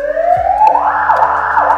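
An ambulance siren switched on from the dashboard SGU unit, rising into a loud, close wail that then changes to a steady fast-alternating electronic tone, heard alone without talk.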